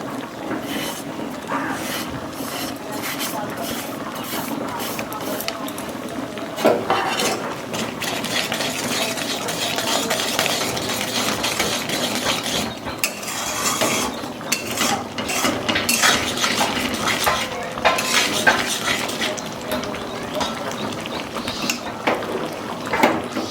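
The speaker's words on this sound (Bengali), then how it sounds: "সব কিছু একসাথে দিয়ে দিয়েছি, আর যতক্ষণ ধরে না ঘন হয় ততক্ষণ একটু নাড়াচাড়া করে নিতে হবে।" A homemade chyawanprash mixture is stirred in a pan until it thickens, with continuous scraping and rhythmic clinking of a spoon against the metal pan, loud and close, with no talk.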